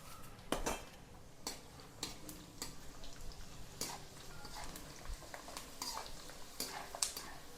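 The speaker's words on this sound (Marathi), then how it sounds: "तर इथे आपण हा वाळवलेला कांदा तळून घेणार आहोत." Dried onion frying in oil in a kadhai, with a steady low sizzle under scattered clinks and scrapes of a spoon against the pan, all fairly faint.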